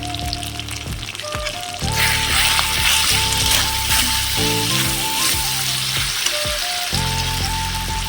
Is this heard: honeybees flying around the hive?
no